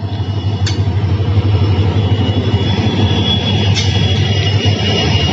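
A passenger train hauled by two engines on the Dadar to Kazipet run rolls into Karimnagar railway station, giving a loud, steady engine rumble with a low drone that holds unbroken throughout.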